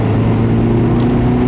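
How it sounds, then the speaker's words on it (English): Stock engine of a 2011 Mazda MX-5 Miata with manual gearbox, a steady low induction growl droning close and continuous with no talk, a brief faint high tick partway through. "Induction noise with this motor. This is all stock, but you get this nice sound from the engine"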